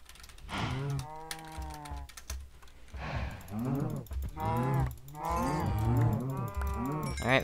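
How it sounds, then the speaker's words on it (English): Several cow moos from Minecraft livestock, long drawn-out lowing calls repeating one after another, close and fairly loud, with faint mechanical clicks underneath. "we got plenty of cows"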